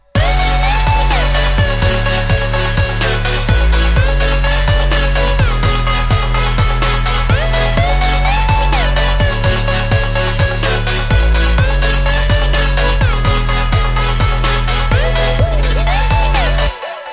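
A dense future bass drop: a bright synth melody rides over pulsing chords and heavy low bass, loud and continuous, with no voices.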